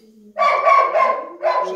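A dog gives a short run of barks and yips, loud and close, in a quick cluster followed by one more bark after a brief pause, with no other sounds around it.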